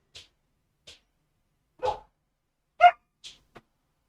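A dog barks several times in short, separate yelps spread across a few seconds, faint and somewhat distant, in an otherwise quiet room.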